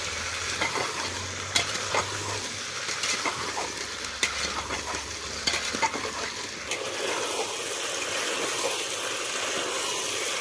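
Beans and potatoes fry in oil on a mud stove, a steady sizzle broken by repeated scrapes and clinks of stirring.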